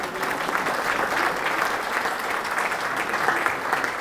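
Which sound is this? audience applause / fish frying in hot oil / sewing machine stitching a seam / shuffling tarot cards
audience applause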